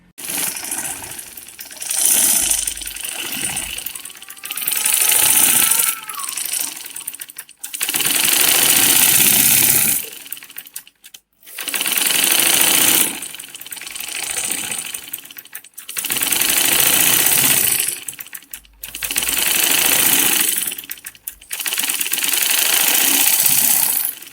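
Sewing machine stitching a face cap, running in about five long bursts of fast whirring stitches separated by short pauses, close and fairly loud.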